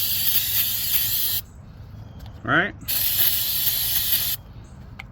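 Aerosol spray cleaning out the inside of a chainsaw part: two long, loud, steady hissing bursts close by, with a short gap between them where someone speaks briefly.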